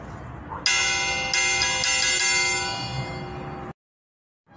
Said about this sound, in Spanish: Esquila dedicada a la Santísima Trinidad y a San José del año 2007